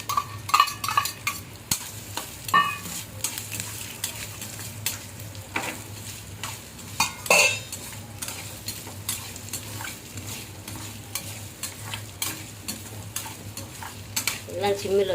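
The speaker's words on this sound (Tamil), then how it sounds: "நூறு வெள்ளைப்பூடு, 50 இஞ்சி வறுக்கணும்." Garlic and ginger frying for Tamil-style mutton fry, a hundred grams of garlic to fifty of ginger; close sizzling with repeated scraping stirs and metal clinks against the pan, uneven bursts over a steady fry, no talk.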